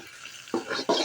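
Pepper chicken with fennel powder and curry leaves being sautéed in a pan, a few short scraping stirs breaking over a quiet background.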